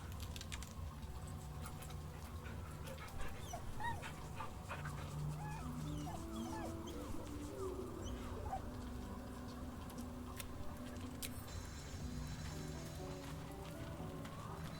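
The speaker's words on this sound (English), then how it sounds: "Pet the dog." A dog whimpers softly and yips while being petted in Baldur's Gate 3, mixed into a busy game soundscape with a steady music bed and scattered clicks.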